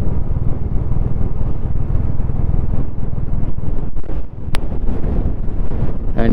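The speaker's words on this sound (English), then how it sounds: "And wind is blowing like hell, man." Strong wind roars against the microphone on a high mountain road toward Pangong Tso in Ladakh, a loud, continuous buffeting rumble with a brief dip near the end.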